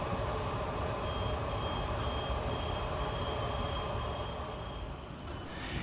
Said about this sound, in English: Whilst departing over on the far side is 377511, working the 1234 Southeastern service from London Charing Cross to Maidstone East.